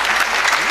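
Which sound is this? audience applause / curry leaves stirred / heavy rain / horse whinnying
audience applause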